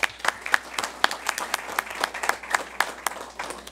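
Audience applause for Bethel Elementary honorees at a Board of Education meeting, a steady spread of many hands clapping at moderate level, with no voices over it.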